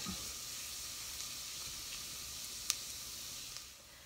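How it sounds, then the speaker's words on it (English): Garlic with butter sautés in a pan, giving a quiet, steady sizzle and hiss close by, with a brief faint clink partway through and no talking. "So we'll go ahead and saute the garlic."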